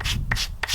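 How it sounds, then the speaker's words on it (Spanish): Sandpaper rubbed over the rough edges of cut wood pieces for a small box, three short scratchy strokes in a steady rhythm, close and clear. "si quieren las pueden pulir un poquitico con un tronquito, una lija."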